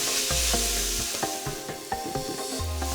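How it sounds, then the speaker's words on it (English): Paneer and pepper karahi stirred in a pan, a spoon scraping in repeated strokes over a steady sizzle of frying, close and fairly loud with no voices. "And give this a good stir."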